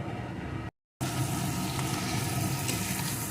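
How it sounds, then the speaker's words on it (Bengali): Crab pieces sauté with spices in a pan for a crab curry with potatoes, a steady close sizzle broken by a short silent gap before resuming. "সুন্দর করে মশলার সাথে কাঁকড়াটাও কষিয়ে নেব।"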